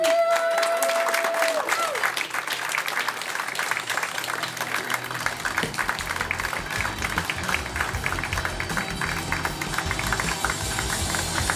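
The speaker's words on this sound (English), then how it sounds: "give a round of applause one more time for Jimmy Lee" Audience at a comedy show claps for a comedian after his guest set, a steady wash of applause lasting several seconds, with a brief tone at the start and faint crowd noise throughout.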